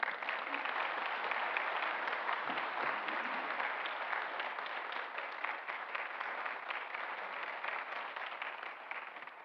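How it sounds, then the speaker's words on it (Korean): A church congregation applauds during a Sunday worship service, welcoming a new member with steady, dense clapping that fills the room and holds evenly throughout. "우리 큰 박수로 환영해 주시기 바랍니다."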